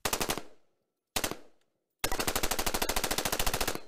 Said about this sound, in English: Next, the AR-15 with a bump stock.